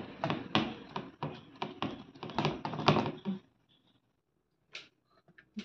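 A cake tin filled with mango and semolina batter is tapped about nine times in a quick, uneven rhythm of close, dull knocks. A few faint clicks follow after a short pause.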